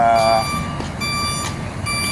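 A truck's reversing alarm beeps at a logistics depot, a steady series of evenly spaced electronic tones heard over background yard noise.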